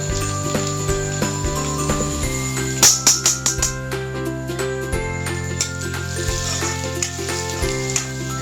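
Onions fry in ghee until golden for Mughlai chicken, with a loud, steady sizzle up close and a run of metallic clinks and taps from stirring in the pan, and no speech.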